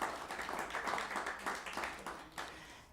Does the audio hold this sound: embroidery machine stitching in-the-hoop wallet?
no